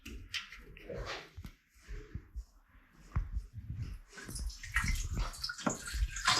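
Fuel splashes and trickles out of a hose from the petcock of a Ducati Desert X motorcycle into a container, an uneven gurgling pour that grows louder and more continuous toward the end, with some handling noise.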